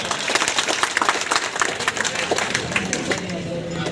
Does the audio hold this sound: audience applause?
yes